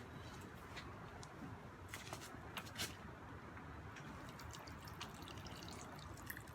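Water from a watering can pours onto rose cuttings in pots, a soft continuous splashing trickle with faint drips, fairly quiet and steady throughout.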